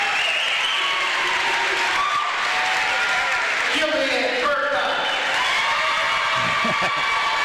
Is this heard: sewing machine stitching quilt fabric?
no